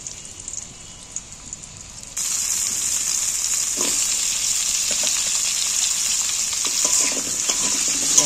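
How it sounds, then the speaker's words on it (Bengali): Diced potatoes dropped into hot mustard oil, a quiet start then a sudden loud, steady sizzle of frying that continues throughout, with occasional faint clinks of stirring; no talking. "সর্ষের তেল খানিকটা দিয়ে দিন, ডুমো করে কেটে রাখা আলুগুলো আমি তুলে দিচ্ছি এর মধ্যে।"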